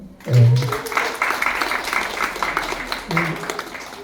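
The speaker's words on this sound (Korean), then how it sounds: "안 계시지만 구청장님하고 의장님께 박수 한번 부탁할까요?" At the Eunpyeong Cultural Center's 2025 general assembly, attendees give a round of applause for the absent district mayor and council chair, steady clapping from the hall while a voice speaks at the start and again near the end.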